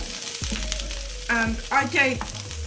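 Onions dropped into a pan to fry give a close, continuous sizzle, with some brief tonal, voice-like sounds rising and falling over it partway through.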